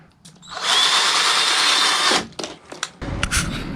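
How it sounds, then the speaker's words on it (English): A power drill bores screw holes into a 2016 Subaru Outback 3.6R Limited during a trail mod, whining loudly and steadily for about a second and a half before stopping, followed by a few short clunks and handling noises. "So the next thing I'm going to do is drill some holes in here to be able to put the screws through."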